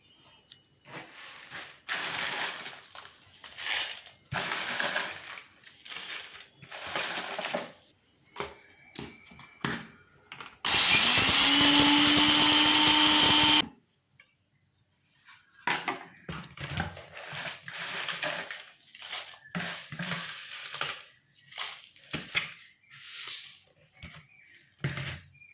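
A mixer grinder coarsely grinding chillies for lemon pickle runs in one loud, steady, whirring burst of about three seconds. Intermittent clattering and handling noises come before and after it.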